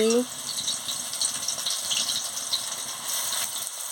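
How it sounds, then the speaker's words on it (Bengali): Okra frying in hot oil in a pan, a steady bright sizzle and crackle that runs evenly throughout at moderate level, with a brief voice-like tone at the very start. "ঢেঁড়সগুলো দিয়েছি, দিয়ে ভালো করে আমি ভেজে নিচ্ছি"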